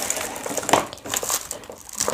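A keyboard is pulled from its plastic packaging, with close, loud crinkling and crushing of plastic in short bursts over a couple of seconds.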